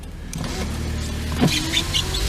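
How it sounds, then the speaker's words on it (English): Power windows on a 1995 Nissan Maxima whir steadily as the glass moves, a close, continuous motor hum inside the car that ends in a short thump and squeak. "you got your power windows, they work"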